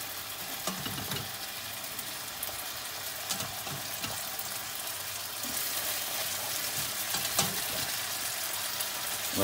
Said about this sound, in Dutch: We gaan het dus lekker doorhusselen.